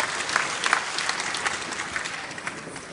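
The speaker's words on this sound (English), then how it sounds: "Please a round of applause as we come forward." An assembled crowd applauds newly elected state union executives at an investiture ceremony, sustained clapping at moderate distance with occasional sharper individual claps standing out.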